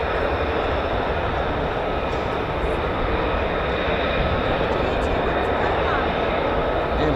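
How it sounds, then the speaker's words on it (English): An F-15 or F-35 fighter jet lands at RAF Lakenheath, its air brake out for deceleration, producing a loud, constant broadband engine roar that stays dense and unbroken throughout. "Air brake as well, just to assist with a smooth deceleration."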